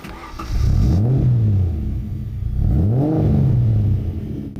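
A Ford Capri V6 engine, Tickford-modified, cranks and catches, then revs up twice in rising and falling swells, loud and close with a deep rumbling tone.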